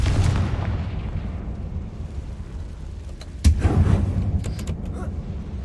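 A Confringo spell explosion in the Hogwarts Legacy video game inside an abandoned mine: a low boom bursts out over a rumbling background, followed by a few scattered sharp cracks and debris clatter.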